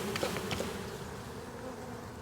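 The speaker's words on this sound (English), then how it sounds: "now that I've got my queen, I'm going to give a shake to these bees." Shaken-off honey bees swarm in a dense, steady buzzing drone around a hive frame during a beekeeping inspection in Jacksonville, Florida, close and continuous with brief louder bursts early on and no voices.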